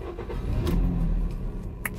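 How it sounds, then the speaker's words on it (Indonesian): A car's engine turns over and runs after its fitted Seerloc G02S GPS tracker restores the engine cut-off, a low continuous rumble that holds steady close by, with a couple of faint clicks on top. "pada saat kunci kontak di posisi on, maka indikator di dashboard dia akan menyala dan mesin kalau di starter dia bisa hidup"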